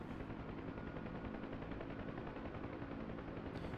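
A helicopter engine in the DCS World flight sim runs up under increasing throttle, a continuous thrumming rotor and turbine drone with steady rapid pulsing, loud and close, with no voices.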